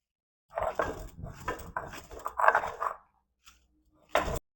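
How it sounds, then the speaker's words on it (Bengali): Fried spices being ground on a dry grinding stone (shil), several close bursts of rough scraping and rubbing strokes separated by short pauses, with a final isolated stroke; no voices. "শুকনো শিলে মশলাটা গুঁড়ো করে নেব, ভাজা মশলা"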